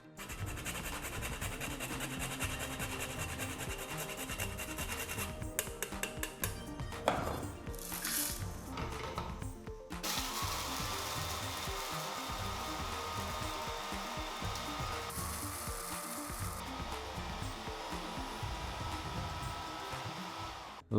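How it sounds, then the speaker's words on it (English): A blender grinds whole garam masala spices with nutmeg, giving a loud, continuous whirring roar with rattling bursts as the hard pieces break down, and the pitch and texture shift midway through the run. "Today I'm using my good old blender."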